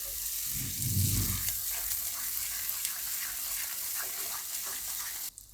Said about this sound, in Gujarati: હવે આને આપણે થોડીક વાર પાકવા દઈશું આ રીતે હલાવતા રહેવું એકદમ તેલમાં સરસ ગ્રેવી આપણી પાકી જાય ત્યાં સુધી